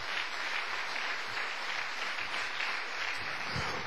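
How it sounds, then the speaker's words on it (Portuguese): A church congregation clapping together in a dense, sustained round of applause that stays even and continuous from start to finish. "Pode dar outra salva de palmas pro Senhor Jesus."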